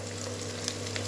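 Chopped vegetables, including brinjal and capsicum, sautéing in a pan for rava kichadi, giving a steady, close sizzle that runs continuously with a faint stir or two and no talking.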